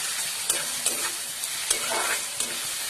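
Vegetables for upma fry in a little oil over high flame, a dense close hiss of sizzling with a few periodic spoon scrapes sweeping through the pan; no speech.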